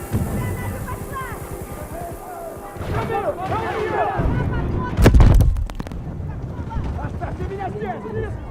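A grenade blast erupts mid-clip in a Battlefield 2042 firefight, a loud broadband boom around the five-second mark, surrounded by scattered gunfire and battlefield clatter while voices shout over the action.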